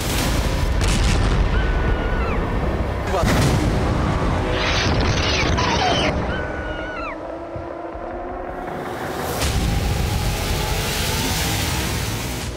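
Bombing explosions across southern Lebanon and Beirut: heavy booming blasts and rumbling din with broadband bursts, sustained and loud throughout, no talk.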